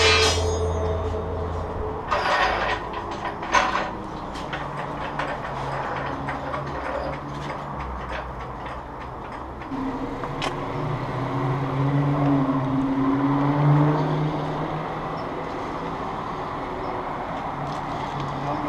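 A car lift lowers a 10th gen Honda Civic Si on new springs in a garage: a steady mechanical whir with ratcheting clicks and clanks that runs the whole time, swelling slightly near the end, with no talk.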